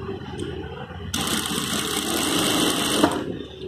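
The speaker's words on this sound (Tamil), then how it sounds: "இந்த ஊசி மார்க் லென்த் முடியாக தையல் போட போகிறோம்." A tailoring sewing machine runs a short, steady stitching burst along blouse fabric, starting sharply and stopping after about two seconds, fairly close and loud.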